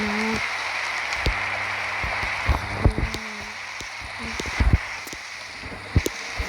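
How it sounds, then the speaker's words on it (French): Steady rain falls at night in the survival game 99 Nights in the Forest, a continuous hiss under scattered sharp ticks and thumps, with a low game hum throughout. "Oh non, il pleut."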